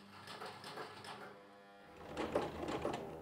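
A sewing machine stitches lengthwise through car seat belt webbing for a tote bag, giving a close mechanical whirring rhythm that pauses briefly and then resumes a little louder.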